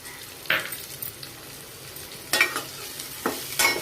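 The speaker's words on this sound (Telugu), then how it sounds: "ఉల్లిపాయ సన్నగా తరిగి ఆ ముక్కలు వేస్తున్నాను" Oil sizzles as sliced onions hit the pan, with bursts of frying and stirring at intervals over a steady low crackle.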